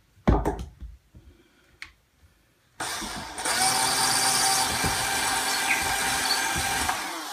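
A power drill bores an exploratory hole into a wall while a game room is being worked on, a few short bursts at first, then one loud, steady, high whirring run lasting several seconds close by.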